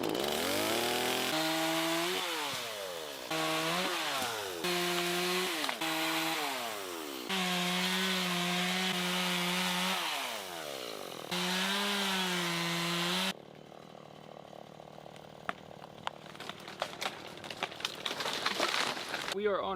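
A chainsaw cuts down dying trees, its engine loud and close in a long steady drone that rises and falls in pitch with each cut, dropping to a rougher idling rattle near the end.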